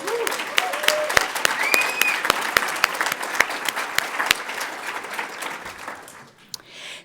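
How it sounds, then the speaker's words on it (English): Audience applause for conference speakers at a closing plenary session, a dense steady round of many hands clapping with a few sharp louder claps and brief whoops, fading out near the end. "please join me in giving our morning speakers and Franklin another round of applause."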